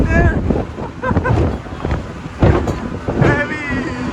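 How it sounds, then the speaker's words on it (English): A very tiny vessel slams through big open-sea waves off El Salvador, with heavy wind buffeting, surging water and repeated thumping impacts filling the whole stretch. "It was a very small boat for every open sea, so we got big waves on a very tiny vessel."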